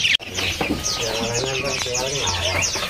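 A Trocok bird from West Java calls at a bird market, with repeated chirping and warbling phrases over the busy background of other caged birds and people talking nearby.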